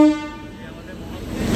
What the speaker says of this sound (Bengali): জয় সিয়ারাম, ট্রেন ঢুকে গেছে,